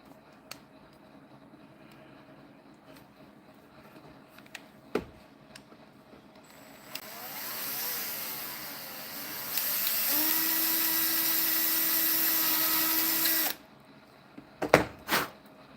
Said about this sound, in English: I need to drill a hole into that.